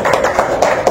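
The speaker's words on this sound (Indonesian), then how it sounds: "Tepuk tangan." Applause at a skincare collaboration press event, a dense steady patter of many hands clapping together, fairly loud and continuous with no talk over it.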